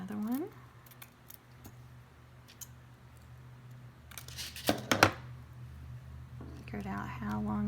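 Scissors cut ribbon for a two-toned cheer hair bow in a few close, sharp snips that come in a quick cluster. A voice talks briefly before and after the cuts against a quiet background hum.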